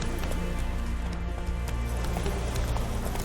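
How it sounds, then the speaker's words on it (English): A horse's hooves clip-clop steadily in The Witcher 3 video game, a rhythmic trotting beat under a constant, dense layer of in-game ambient noise. "That's his horse."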